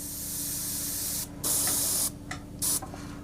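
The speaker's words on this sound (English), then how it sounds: "Press down on the trigger and just pull back on that trigger and have a look at the atomization" Bursts of hissing spray from a paint spray gun atomizing paint, several on-off blasts of varying length, loud and close over a low steady compressor hum, with no talking.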